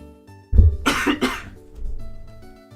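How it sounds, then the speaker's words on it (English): A single close cough rings out, a harsh burst followed by a couple of quick hacking bursts, then settles back to quiet background music. "I'm gonna cough."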